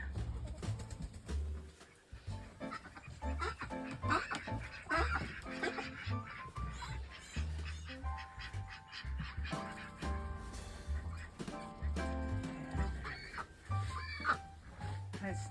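Chickens in a snowy yard cluck and call near and far over several seconds, their voices overlapping in a busy, uneven chorus.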